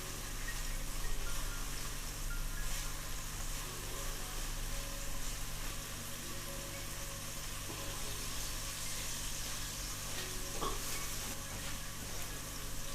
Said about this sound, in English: Straight into the pan, and we let it gently bloom in the heat.